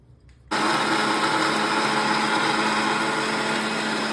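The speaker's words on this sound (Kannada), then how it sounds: "ಇವಾಗ ಮಿಕ್ಸಿಯಲ್ಲಿ ಹಾಕ್ಕೊತೀನಿ" A mixer grinder blends dosa chutney, switching on abruptly after a brief quiet and then whirring loudly and steadily at close range without pause.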